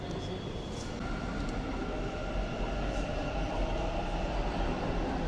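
A metro train pulls out of a station platform, its steady, loud mechanical rumble and rolling hum holding evenly throughout, with no voices over it.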